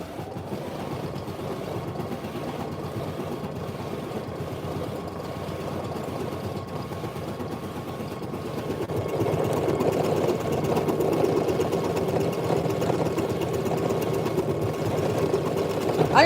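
An embroidery machine stitches a satin-stitch patch, a steady close mechanical whirr and rapid needle chatter that grows louder and busier partway through, with no talking.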